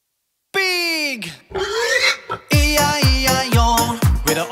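Cartoon pig oinking in a children's nursery rhyme about a farm, rendered as a sung voice imitating oinks in a bouncy repeated rhythm over music, several short grunting oink notes close and loud.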